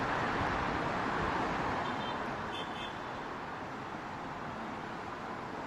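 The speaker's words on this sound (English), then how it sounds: "You've got hundreds and hundreds of cars lined up just trying to get gasoline in China." Hundreds of cars lined up for gasoline in China make a dense, continuous rumble of idling engines and roadway noise, with a brief faint horn toot partway through.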